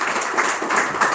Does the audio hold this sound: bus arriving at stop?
no